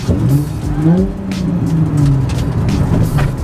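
Inside a Nissan 350Z sports car, the engine's rising and falling drone blends with a constant rumble of road noise under the tires.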